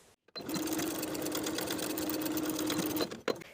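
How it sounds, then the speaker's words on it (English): A sewing machine runs steadily for about three seconds, edge stitching an elastic casing closed on pajama shorts, a close, even mechanical whir that starts and stops abruptly. "Then edge stitch the opening closed along the original casing stitches."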